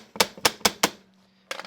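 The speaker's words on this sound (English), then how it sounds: "staple it up" A staple gun fires four quick, sharp clacks in an even rhythm while stair carpet is fixed to a rounded stair, followed after a short pause by a brief cluster of two or three more snaps, close and fairly loud.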